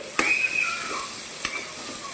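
Chili powder being stirred into a sizzling pan for egg bhurji, a soft steady sizzle with two sharp spoon taps against the pan and a brief thin whistling tone.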